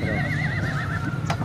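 A horse at a horse market in Mandi Aminpur Bangla gives a loud, close, wavering whinny. A brief hoof clop follows near the end.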